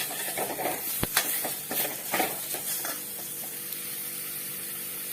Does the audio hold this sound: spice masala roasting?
yes